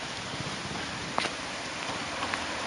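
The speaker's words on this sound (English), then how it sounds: "Rain is just starting to come down here." Light rain begins falling, a soft continuous patter with a few distinct drops tapping nearby.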